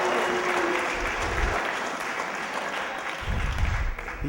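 An independent wrestling crowd claps steadily through the whole stretch, a dense wash of applause with a few louder bursts and some whistles, without clear speech over it.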